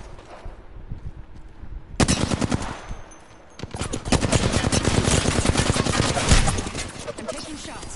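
Bursts of automatic weapon fire in Apex Legends, a short volley followed by a longer sustained stream of rapid shots, loud and close with faint game ambience between.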